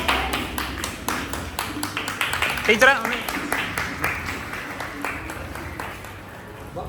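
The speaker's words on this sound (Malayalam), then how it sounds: "നമുക്ക് കൈയടിക്കാം" A group of former classmates at a school batch reunion breaks into applause, many hands clapping together in a dense, lively burst that swells and then tapers off, with a voice speaking over the clapping.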